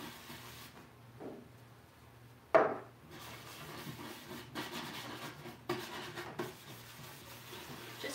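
A wax brush rubbing wax onto painted wood, faint close scrubbing strokes in a quiet room, with a sharp knock and a few louder brushing bursts.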